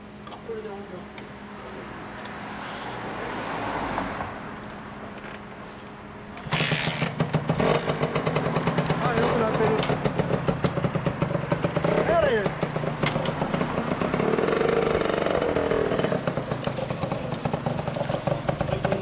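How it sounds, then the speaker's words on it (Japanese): A 1998 Kawasaki KSR-II 80 two-stroke with an expansion chamber exhaust idles and is started up, going from a softer run to a loud, rapid, crackling engine sound that continues steadily, with people talking nearby. "エンジンかけてもらえますか？"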